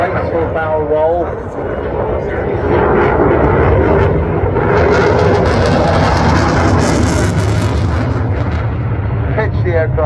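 A Eurofighter Typhoon at the Blackpool airshow, its two EJ200 engines in full reheat, makes a loud, swelling roar that grows into a harsh crackle, with a commentator talking over it throughout.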